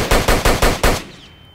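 Rapid automatic gunfire in the Roblox video game: five quick, loud, evenly spaced shots in about a second, then a short fading tail with a faint high ring.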